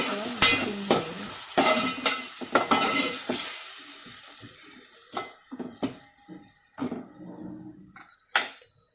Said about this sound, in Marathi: थोडंसं हलवून घेऊया, म्हणजे ते सगळं मिक्सिंग होईल.